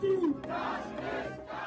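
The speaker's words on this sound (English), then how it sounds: "Crowds also gathered outside the British Parliament." Brief burst of a demonstrating Hindu crowd gathered outside the British Parliament: a raised chanting shout over a dense murmur of many voices, fairly distant.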